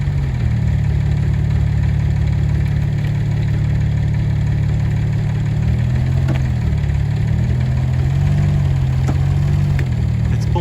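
A Massey Ferguson tractor engine labors steadily while pulling a Subaru backwards, a loud continuous low rumble that rises and shifts in pitch midway, with no voices.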